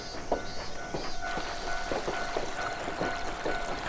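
A train in the Shin-chan summer vacation video game, a steady rolling rumble with regular clacking beats roughly every half second, close and even in level with no talk.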